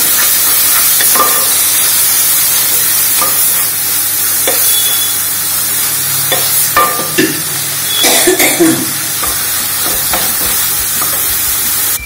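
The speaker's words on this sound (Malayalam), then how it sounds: "ഇനി കൂനിനെ ഇതിലേക്കിടും. നന്നായി ഇളക്കി യോജിപ്പിച്ച് ഒരു 10 മിനിറ്റ് മൂടി വയ്ക്കുക." Mushrooms stirred into a sizzling Kerala-style curry masala in a pan: steady frying crackle and hiss throughout, with scraping stirs and clatters, loudest around the middle, and no talking.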